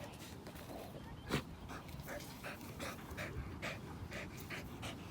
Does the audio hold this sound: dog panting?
yes